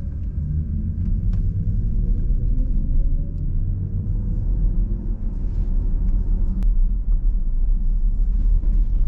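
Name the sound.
Audi SQ6 e-tron accelerating uphill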